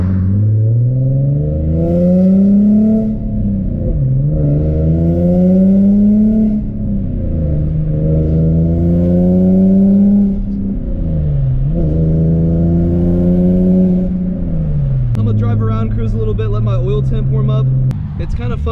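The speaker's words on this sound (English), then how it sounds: "the ISR with the PPE long tube headers is still gonna sound very good" Infiniti G37 with an ISR single-exit exhaust and long tube headers, driven on the street, loud and close, with repeated deep revving climbs and shifts across the clip and a voice talking over it near the end.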